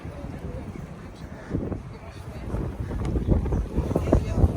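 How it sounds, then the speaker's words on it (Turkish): Steady wind buffeting the microphone outdoors near a beach, a low rumbling gusty roar that swells in strength toward the end. "Hava rüzgarlı."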